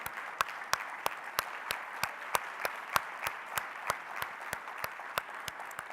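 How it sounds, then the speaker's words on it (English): Audience applause for Lynn at a plenary economic development event, a steady round of clapping from a large crowd with sharp individual claps standing out, moderately loud and without speech. "So I'd ask that you give him a huge round of applause"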